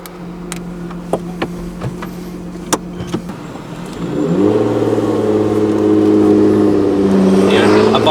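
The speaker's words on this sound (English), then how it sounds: "sports exhaust" Lotus Evora 400 sports car with a sports exhaust, first ticking over with sharp blips, then revving up into a loud, sustained rising engine drone that holds steady near the listener.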